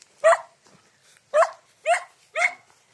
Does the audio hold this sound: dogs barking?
yes